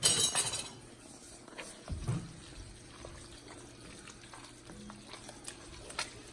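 A pot of pulled meat chili is stirred with a spoon, a soft wet scraping and bubbling with a few clinks of utensil against the pot, fairly quiet, with no talk.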